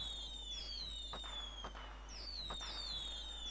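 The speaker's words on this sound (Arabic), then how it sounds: "اسم الفائز مع مفرقعات نارية" Fireworks sound effect on the winner screen of a billiards league organizer program, with a steady crackling hiss and several sharp bursts and whistling rising streaks repeating over a few seconds, no voices.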